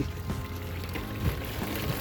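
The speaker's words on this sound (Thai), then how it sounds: "น้ำไหลผ่านเย็น" Cool water flowing past on a hot sunny day outdoors, a steady pouring, gurgling wash with a few soft splashes, close and continuous, with no talking.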